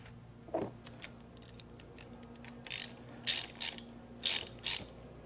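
A ratchet spins a new nut onto the battery clamp of a 2010 Corvette, sounding as short clustered bursts of crisp, close clicking with brief gaps between strokes.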